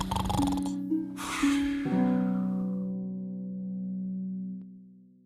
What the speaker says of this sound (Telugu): అప్పుడు ఆ యువకుడికి తెలిసింది తను గురక శబ్దం చెయ్యాలని.